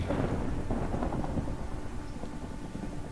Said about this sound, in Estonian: Aga Minecraftis päriselt ju müristabki.